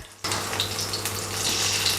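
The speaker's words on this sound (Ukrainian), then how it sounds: "Можете подивитися, як вона там шкварчить" Food sizzles steadily in a hot pan after an abrupt start, a constant crackling hiss close by, with no voices.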